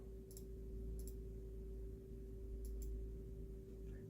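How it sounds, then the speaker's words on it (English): Four soft computer mouse clicks arrive in two quick pairs over a steady electrical hum, faint and close by. "Click save and click start."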